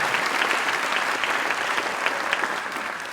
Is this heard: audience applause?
yes